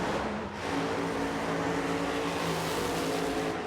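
Methanol-burning Funny Car drag racers run at a European FIA/FIM drag racing main event, giving a steady, loud engine roar with sustained harmonic drone throughout.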